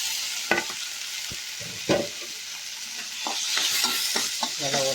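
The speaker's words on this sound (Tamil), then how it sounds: "வெங்காயம் தக்காளி நல்லா வதங்கிட்டு இருக்குங்க." Onions and tomatoes sauté in a pan with a soft, continuous sizzle, broken by several sharp scraping strokes of a spoon as they are stirred, close and fairly clear with no talking.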